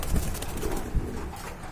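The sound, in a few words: Kagzi pigeons cooing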